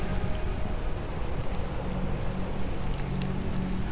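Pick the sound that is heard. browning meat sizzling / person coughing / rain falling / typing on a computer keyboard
rain falling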